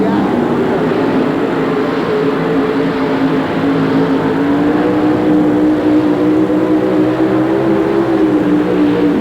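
A super modified pulling tractor roars through a pull, rear axles driving as it lifts into a wheelie; the loud, steady engine drone shifts slightly in pitch, with no talk over it.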